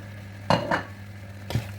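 Onions drop into a pan with tomatoes and coconut rice and get stirred, giving a few scraping, sizzling bursts over a low, steady kitchen hum.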